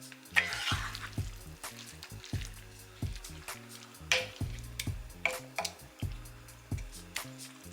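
Cheese is stirred into food in a pan over low heat: close, repeated soft squishing and scraping strokes in an uneven rhythm, with faint sizzling beneath and no talking.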